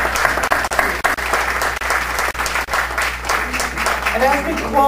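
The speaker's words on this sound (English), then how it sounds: "Let's give a round of applause for all of our candidates today." Audience applauding for the candidates at a ward candidate forum, a steady wash of many hands clapping for the full five seconds, with some crowd voices and a brief voice near the end.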